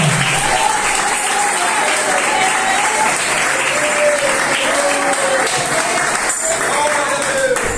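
A church congregation applauds in a sustained, dense roar of many hands clapping, continuous throughout, with a voice talking and singing faintly over it.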